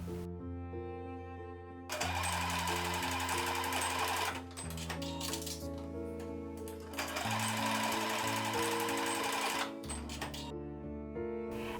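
A sewing machine sewing the ends of headband elastic closed, with steady rapid stitching bursts. Three main runs are separated by short pauses, and the sound is close and fairly quiet.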